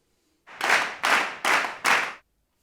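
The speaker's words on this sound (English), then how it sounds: "Clap your hands 4 times." Four sharp hand claps in a quick, even row, loud and close, with silence before and after.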